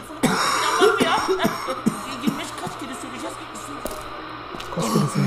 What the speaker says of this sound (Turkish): Öksürme dayı.